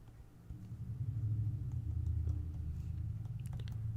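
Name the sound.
car driving by on road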